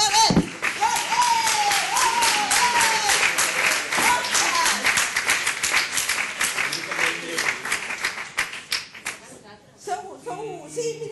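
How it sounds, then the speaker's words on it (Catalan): Audience applause fills a Catalan presentation hall, dense and steady, with voices and brief whistles or tones running over it before the clapping thins out near the end. "els aplaudiments"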